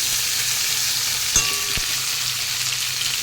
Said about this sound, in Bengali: তো আলুটাকে একটু ভালো করে ভেজে নেবে